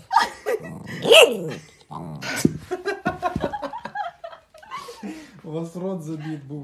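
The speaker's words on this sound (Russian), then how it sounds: "Собака с глушителем." A dog gives a muffled, stifled bark amid people talking and laughing close by, the bark short and partly swallowed under the voices.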